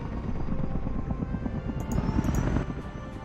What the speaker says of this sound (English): I'll bring a chopper over.